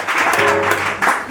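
An improv theater audience claps in a short burst of applause, a dense patter of many hands lasting about a second.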